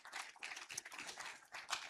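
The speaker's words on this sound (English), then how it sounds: "A big applause for your contributions and for the very fruitful discussion." Audience applause at an agricultural conference session, a dense spread of hand claps filling the room without pause, fairly faint and distant, with no voices over it.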